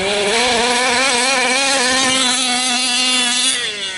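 A Losi Five B RC car with an OBR 32cc engine runs at steady partial throttle, a loud, continuous buzzing two-stroke drone close by that dips slightly near the end.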